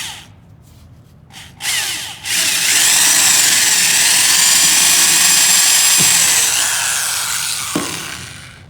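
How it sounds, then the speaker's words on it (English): A power drill bores a hole through the center of a wooden Conibear trap stabilizer, starting with a couple of short bursts, then a loud, sustained, high-pitched whine with grinding that fades as the bit finishes. "we're just gonna drill a hole in the center of this"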